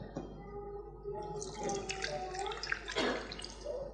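Water trickles and drips steadily as it is poured out during a Hindu puja ritual held at Christmas 1981 in London, with quiet voices murmuring beneath the pouring.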